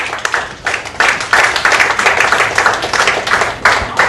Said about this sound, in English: I think you should give her a big round of applause.